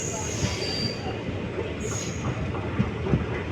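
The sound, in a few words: passenger train departing Karur Junction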